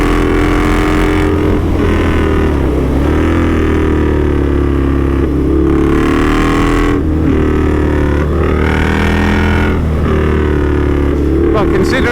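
Indian Scout 'Street Hooligan' motorcycle by Krazy Horse, a cruiser with a slack head angle, ridden with a loud, steady engine drone and some wind rush under occasional speech.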